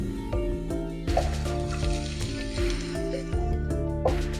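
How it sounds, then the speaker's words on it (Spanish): Vegetables sautéing in olive oil in a pan give a steady sizzle that runs under louder background music throughout. "Primero será saltear las verduritas en un poco de aceite, mejor si es de oliva."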